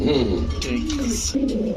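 White beauty pigeons coo in low, rounded, repeated calls from close by in a Bangladeshi pigeon shop, with someone speaking over them.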